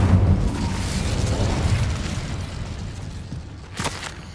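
Incendio fire spell cast in Hogwarts Legacy, a loud whooshing burst with rumbling low end that fades out, followed by a brief sharp crackle near the end; no talking.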